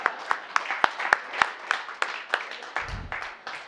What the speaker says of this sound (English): so we should give him a round of applause